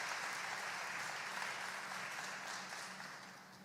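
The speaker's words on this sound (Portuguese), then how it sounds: "Se você crê, aplauda Ele" Congregation in a church claps in worship, a dense and soft wash of applause that runs steadily before slowly fading toward the end.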